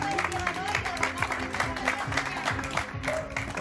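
Neighbours applaud the woman from their local bakery, a steady patter of clapping hands mixed with street ambience and some voices, continuous and moderately near throughout.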